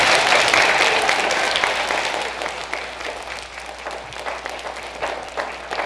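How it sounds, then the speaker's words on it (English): A school audience applauds visiting Rochester Knighthawks lacrosse players, a full burst of clapping that starts loud and gradually tapers off, with a low steady hum underneath. "Can you give them a round of applause for being here?"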